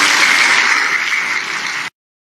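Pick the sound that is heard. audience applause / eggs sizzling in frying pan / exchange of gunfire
audience applause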